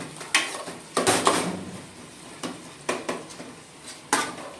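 Maggi pasta masala is stirred in a pan over a high flame, with a spoon scraping and knocking against the metal in irregular bursts over a low sizzle, loud and close.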